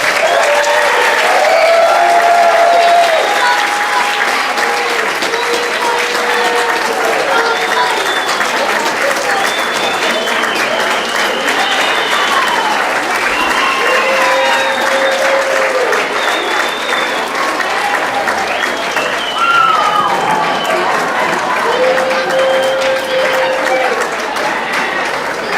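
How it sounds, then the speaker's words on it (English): A large audience at an 8th grade promotion ceremony applauds steadily and loudly for the whole stretch, with scattered cheers and whoops rising over the dense clapping. "Let's give our now ninth graders a final round of applause."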